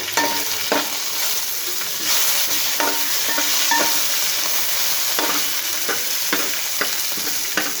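Curry leaves and bitter gourd pieces frying in a pan, a steady close sizzle with repeated stirring scrapes and clinks at irregular intervals, no voices.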